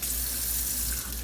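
A bathroom faucet runs with a steady, loud gush of water close by, unbroken and alone for its whole brief length.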